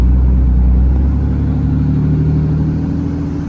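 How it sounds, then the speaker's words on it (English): A truck with a 1200HP Cummins engine cruises in fourth gear, a steady close mid-pitched engine drone with a low rumble that eases slightly toward the end, no voices. "We're in fourth gear, driving down the road."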